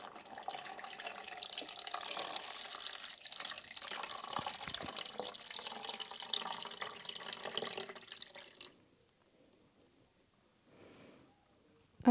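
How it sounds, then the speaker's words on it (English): Water pours steadily into a plastic pet food feeder with a floating plate, a close, continuous splashing fill that stops abruptly, followed by near silence and a faint rustle. "now let's pour in the water and see exactly how the floating plate works."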